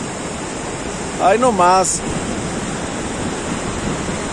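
Ocean surf rolling onto the beach at Playa Las Glorias, Guasave, Sinaloa, a steady broad wash of waves with breeze, loud and continuous, with a short spoken exclamation partway through.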